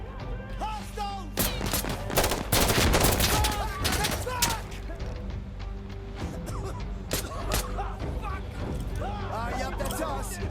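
Dense bursts of automatic gunfire crackle in the video game Insurgency: Sandstorm, loud rapid volleys and booms overlapping with shouting voices throughout.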